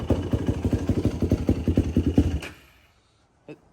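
Honda TRX 450 ATV engine running lean with a steady rapid thumping beat up close, cutting out abruptly partway through, followed by near silence and a single faint click.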